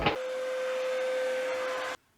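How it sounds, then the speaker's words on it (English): A shop vacuum runs steadily, sucking router debris out of freshly routed dagger board trunk holes on a wooden dinghy build, with a loud constant whine and a strong steady tone that cuts off abruptly at the end. "let me see if I can vacuum some of that out of there."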